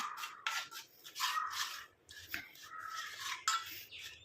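A natural hair dye paste, ground smooth, is stirred and mixed in a bowl, giving soft wet scraping and rubbing strokes in an uneven rhythm, close and fairly quiet, with no voices.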